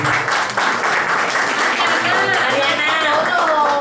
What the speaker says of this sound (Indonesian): beri aplaus untuk Bu Maria ya, pengantin baru